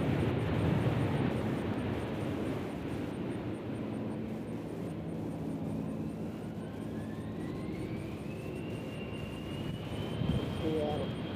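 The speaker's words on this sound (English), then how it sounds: "Alaska Airlines just came in on the center." An Alaska Airlines jet comes in to land at Nashville International Airport, a broad distant engine roar that holds steady and then fades, with a faint rising whine and people talking over it.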